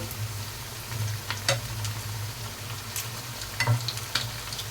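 A semolina evening snack fries in oil with a steady, moderate hiss, broken by a few brief spatters and light clicks from the pan.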